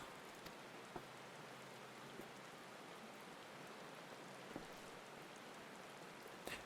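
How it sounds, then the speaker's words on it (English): Steady rain falls in the FFXIV world of Eorzea, a dense even hiss with a few faint isolated drips and taps, no voices. "It's raining right now."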